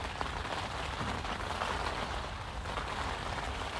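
Steady rain falls at a lake during winter carp fishing, a dense, even hiss of drops on water and surfaces that continues unbroken and fairly close throughout, with no voices.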